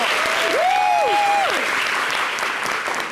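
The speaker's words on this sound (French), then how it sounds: "Merci de les applaudir." Studio audience on a television show applauding, a loud, dense, continuous wash of clapping with a voice briefly speaking over it.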